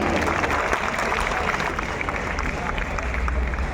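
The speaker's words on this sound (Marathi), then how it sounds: "जोरदार टाळ्यांनी आपण यांचं स्वागत करायचं आहे" An audience at a state cultural department award ceremony for senior artists claps steadily, a dense, even wash of applause filling the hall from start to finish.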